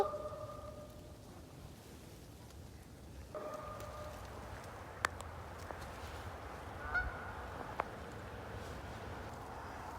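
Distant honking calls of black ducks, mallards and wood ducks at a river mouth, over steady outdoor background noise, with a few sharp clicks and knocks nearby.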